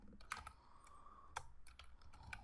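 Keys clatter on a computer keyboard, typing code for a Tkinter hello world program in irregular bursts of soft taps with a few sharper clicks, close and steady, with no talking.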